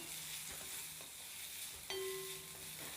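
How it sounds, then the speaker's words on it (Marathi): Finely chopped onion fries in oil over a low gas flame for masoor dal, a faint, soft sizzle with a few light stirring clinks and a brief ringing tone. "आपल्याला हा कांदा हलका गुलाबी रंग येईपर्यंत कमी गॅसच्या फ्लेमवर तेलात परतून घ्यायचा आहे"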